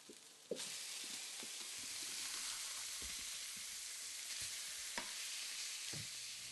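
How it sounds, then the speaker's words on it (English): Fish browns in a NutraEase pan with the cover slightly ajar, giving a faint, even sizzle with a few soft clicks and taps scattered through it. "After browning on one side, turn the fish to brown the other side."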